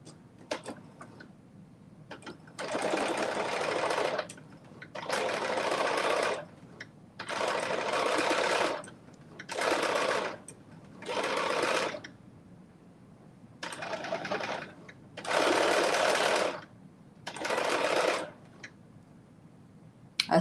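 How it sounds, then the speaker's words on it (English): Sewing machine topstitching a garment from McCall's pattern M8208, running in about eight distinct bursts of steady rapid stitching separated by short pauses, close and fairly loud with no talking. "so I am top stitching this"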